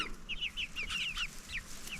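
Chickens clucking repeatedly in a garden enclosure, a steady run of short, fairly close calls with light background noise and no talking.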